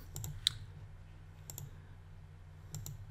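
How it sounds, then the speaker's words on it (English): Faint computer mouse clicks, placing waypoints on a map during drone autolaunch setup, come as a few soft, quick double clicks spaced out over a low, steady room hum. "Or we could click around the map"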